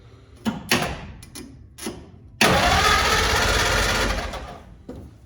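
A 1940 Ford car engine cranks and fires while started in gear, a few short starter bursts and then a loud sustained run of about three seconds before dropping away.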